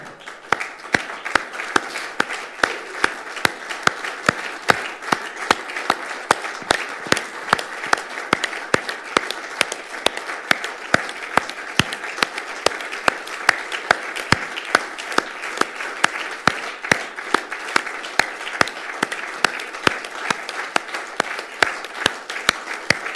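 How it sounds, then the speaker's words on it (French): A departmental council assembly gives sustained standing applause, with many hands clapping densely and evenly at a near distance for over twenty seconds and no speech. "je vous propose d'adopter cette délibération par applaudissement debout"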